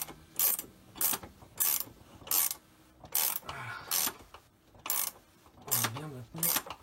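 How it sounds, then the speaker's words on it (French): Flat ratchet tightening a nut on a BMW E46 330 driveshaft, rhythmic bursts of ratcheting clicks repeated about ten times at close range, with someone speaking quietly between strokes. "j'utilise mon cliquet pour avancer"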